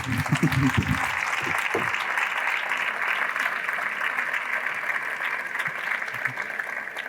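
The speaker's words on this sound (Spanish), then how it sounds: "vamos a recibir a nuestros invitados con un fuerte aplauso" Steady audience applause welcomes guests to a literary talk, holding even and moderately loud throughout, with a short spoken phrase over the opening moments.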